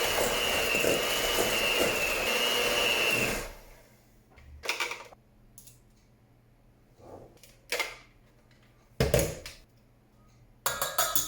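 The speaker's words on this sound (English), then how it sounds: "Unplug the mixer." An electric mixer whirs loudly and steadily through jello pretzel cake batter, then cuts off abruptly, leaving quiet room sound broken by a few scattered clatters and bumps.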